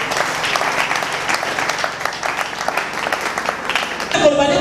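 A church congregation applauds together in a dense, sustained round of clapping that fills the room, then cuts off abruptly as a voice comes in at the end.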